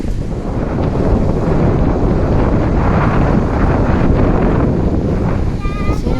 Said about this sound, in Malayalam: നല്ല രീതിയിൽ കാറ്റുണ്ടായിരുന്നു കണ്ടോ